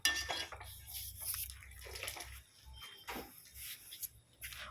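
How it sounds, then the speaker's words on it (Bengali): Boiled taro flowers being strained and lifted onto a plate in a home kitchen, with close, clattering clinks of utensils against metal dishware and some watery sloshing, no voices. "এবারে ছেঁকে তুলে নেব একটা থালার মধ্যে।"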